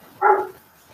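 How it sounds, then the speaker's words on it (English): A dog lets out one short bark at a distance, heard through a quiet background during a conversation. "Still hear this dog."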